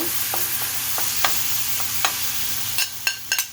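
Rinsed ground turkey for sloppy joes dropped into a hot pan and stirred, a steady hiss of sizzling under a series of distinct spatula scrapes and knocks that grow busier toward the end, close and clear with no talking.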